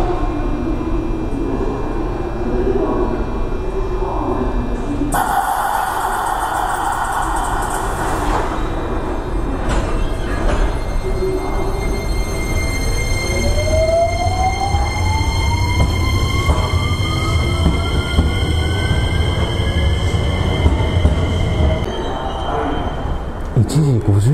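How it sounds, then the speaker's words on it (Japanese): A JR Shinkaisoku rapid service train departs Osaka Station late at night, its steady rumble mixed with a long rising wheel or motor whine and station ambience throughout. "そして新快速の安行きが発車するみたいです。"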